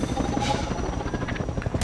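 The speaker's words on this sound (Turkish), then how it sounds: "Helikopterin saldırısına uğradık." An attacking helicopter in Half-Life 2 thumps overhead with rapid, loud rotor beats that pulse steadily through the whole moment.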